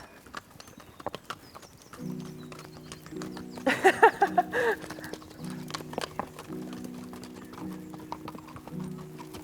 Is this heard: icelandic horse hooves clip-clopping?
yes